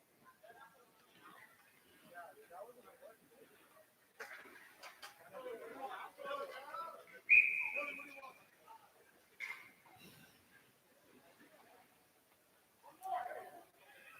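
At a college ice hockey game between the Cardinals and Michigan-Dearborn, a referee's whistle gives one short, sharp, shrill blast midway through, heard under a commentator talking steadily over faint arena noise.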